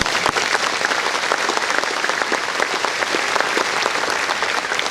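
A crowd at an agricultural awareness event applauds the FFA and 4-H members, dense, continuous clapping from many hands at steady volume throughout.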